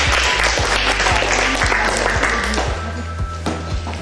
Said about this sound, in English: may I ask everybody to give them a big hand of applause